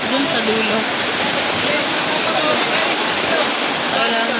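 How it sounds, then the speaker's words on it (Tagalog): Heavy rain pours down steadily during a flood, a dense continuous roar close by, with a person talking over it. "Tignan nyo naman kung gaano kalakas ang ulan."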